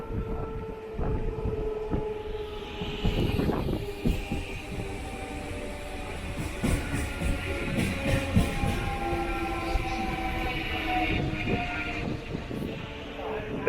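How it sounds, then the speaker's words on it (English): An Erode–Palakkad Town MEMU passenger train rumbles and rattles along near Ettimadai station between Coimbatore and Palakkad, with rhythmic clanks and a steady mechanical drone, fairly close and continuous. "we just arrived at Ettimadai station"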